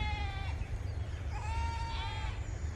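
Sheep bleating from a flock, several drawn-out wavering calls heard close, one after another, over a low rumbling background.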